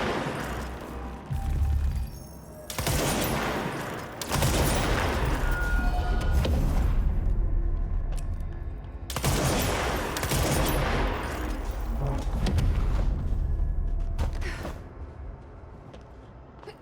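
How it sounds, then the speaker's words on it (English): Rapid, loud bursts of gunfire from shooting in the game Control rattle in long sustained volleys with a few short pauses between them, backed by booming low impacts. "Mostly trying to shoot."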